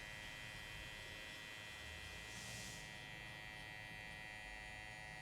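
Electric hair clippers run steadily throughout a mid fade haircut, a continuous close buzzing hum with no talk over it.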